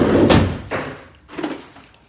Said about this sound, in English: I am going to shut that door.